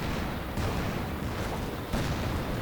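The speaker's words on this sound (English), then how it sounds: "you'll hear the sound of the artillery flares" Artillery flares firing in a Company of Heroes 2 winter battle on Rzhev, heard as a dense, continuous rumble of distant booms with a couple of sharper bursts, no voices.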